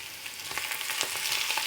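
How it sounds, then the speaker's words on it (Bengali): Sliced onion and chopped green chilli frying in hot mustard oil in a kadai for ghugni, a busy, crackling sizzle with light stirring, close and steady, with no speech. "তাতে সর্ষের তেল দিয়ে দিলাম। তেল ভালোভাবে গরম হয়ে গেলে কাটা পেঁয়াজ আর কুচি করা কাঁচা লঙ্কা দিয়ে দিলাম।"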